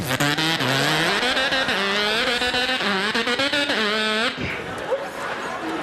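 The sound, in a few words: voice imitating a dirt bike engine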